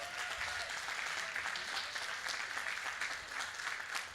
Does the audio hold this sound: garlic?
no